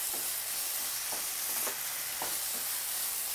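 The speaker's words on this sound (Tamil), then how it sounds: "சிக்கன் மசாலா இதை போட்டு இன்னும் கொஞ்சம் எண்ணெய் ஆட் பண்ணி நல்லா வதக்கிக்கோங்க" Chilli powder, coriander powder and chicken masala sauté in oil with a constant close hiss and sizzle, punctuated by occasional soft stirring scrapes.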